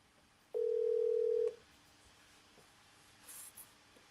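A phone beeps once with a steady, clean tone lasting about a second, followed by quiet hiss and a couple of faint soft blips.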